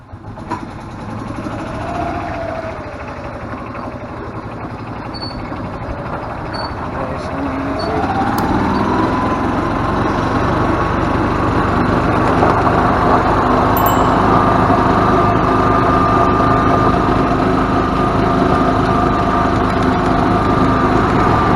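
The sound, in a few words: gas cart small engine running during a drive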